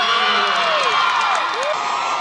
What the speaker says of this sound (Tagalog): Halos malunod ng malakas na sigawan at palakpakan ang announcement ng pagiging pangatlo ni Dingdong Dantes sa Sexiest Man of the World